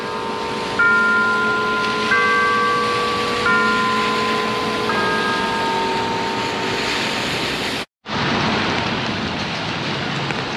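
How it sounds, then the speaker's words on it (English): Church bells of Park Street Church in Boston chime in sustained, overlapping tones over steady city noise, ringing for several seconds before a brief cutout and continued ambient hiss. "You can hear the bells chiming."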